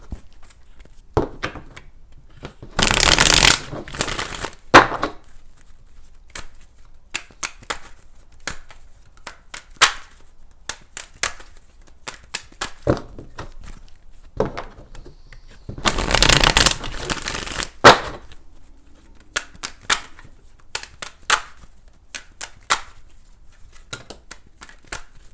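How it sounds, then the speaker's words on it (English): Divination cards for a Sagittarius reading are shuffled in two loud, riffling bursts about thirteen seconds apart, with quieter taps and handling of the deck in between. "Got some jumpers here, that's always good. Last shuffle here."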